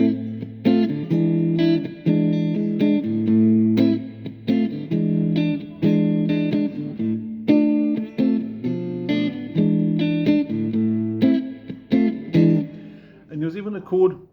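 Electric guitar with distortion and effects strums chord voicings in a steady repeated rhythmic pattern of punchy chords, loud and close, ending in a short run of single notes.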